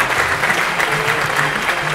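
An audience at a closing ceremony applauds the jury, a dense steady clapping of many hands filling the room without pause.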